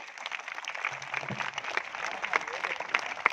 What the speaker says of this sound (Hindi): मैं सभी बच्चों से आग्रह करूंगा कि जोरदार तालियों से एक बार स्वागत करेंगे